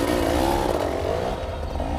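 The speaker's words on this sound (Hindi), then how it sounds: "कमल ने तेजी से अपनी बाइक स्लाइड की और पंडित के पैर में लड़कर बाइक सहित गिर गया" A motorcycle engine roars steadily and close as the bike slides, with clattering and scraping under it, a dense continuous burst for a drama sound effect.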